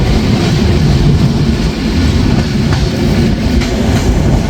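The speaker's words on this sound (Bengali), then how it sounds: "এখন আমরা যে ট্রেনটিতে ভ্রমণ করছি তার ট্রেন নম্বর সাতশত সাতান্ন" The Drutojan Express passenger train with LHB coaches rumbles steadily along the rails with a constant loud low roar and faint rhythmic clatter, heard from inside a moving carriage.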